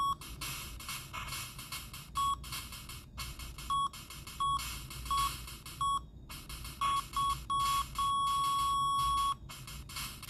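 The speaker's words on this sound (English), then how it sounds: "I forgot how bad the beeping was for this game." Repeated electronic beeps at a single pitch sound in short bursts of varying length, ending in one long tone, over a busy PS2 game soundtrack played on a Samsung Galaxy Tab A9+.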